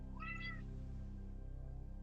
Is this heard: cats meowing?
yes